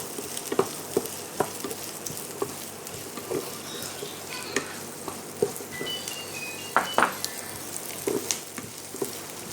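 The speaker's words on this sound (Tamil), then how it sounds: "எல்லாமே லைட்டாக வதக்கிக்கோங்க" Vegetables for chilli chicken sauté in a pan with a steady close sizzle, punctuated by irregular light clinks and scrapes of stirring.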